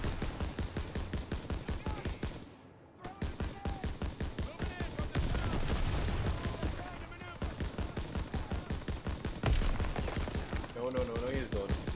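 Sustained, rapid gunfire in Call of Duty: WW2 rattles in dense bursts with short pauses, while voices shout over the shooting.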